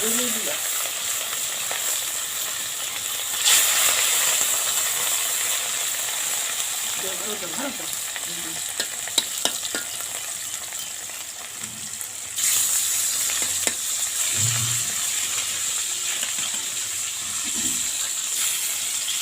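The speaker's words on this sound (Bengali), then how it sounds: "আমরা নড়াতে এভাবে দিলাম, মাছগুলো আগে ভেজে নেব সুন্দরভাবে।" Pieces of rohu fish fry in hot oil in a wok over low gas, giving a steady, bright sizzle throughout. Occasional clinks and stirring scrapes cut in, and faint voices pass underneath.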